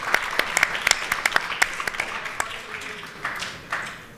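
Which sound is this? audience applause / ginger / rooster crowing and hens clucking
audience applause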